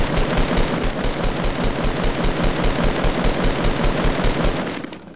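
Loud, sustained automatic gunfire from a Fortnite match, a fast unbroken burst of close rapid shots rattling for about five seconds before easing off at the end, alone without voices.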